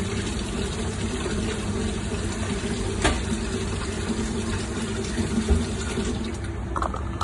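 Bitter gourd being rinsed in a sink under a running tap, a constant splashing rush of water that goes on throughout, with a few small knocks and handling clatters near the end.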